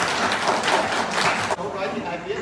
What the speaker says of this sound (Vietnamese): Xin cho một tràng pháo tay.